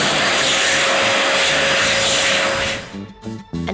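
A hand dryer blows a loud, close, steady roar of air that cuts off abruptly, leaving a few faint knocks and rustles afterward.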